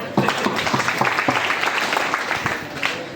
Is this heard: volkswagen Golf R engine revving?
no